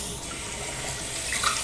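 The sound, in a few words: rinsing face with cool tap water after shave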